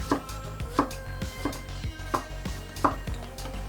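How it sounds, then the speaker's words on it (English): A knife chops tomatoes into medium cubes on a cutting board for a fattoush salad, giving about six evenly spaced, crisp thuds in a steady rhythm. The strokes are close and moderately loud, with no talking. "Now we're gonna chop the tomatoes."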